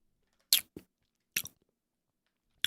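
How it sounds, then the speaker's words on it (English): A crunchy chocolate cookie with a cookie filling inside is bitten and chewed, giving a few sharp, close crunches spread apart with silence between them. "Like nice and chocolatey. I like the cookie filling inside. Kind of crunchy."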